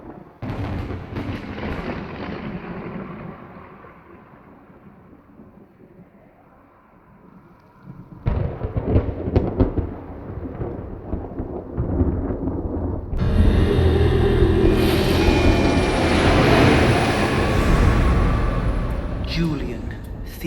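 Thunder rolls and rumbles in a valley during a storm, starting as a fading low roll, then breaking into louder crashes and a sustained roaring downpour-like wash.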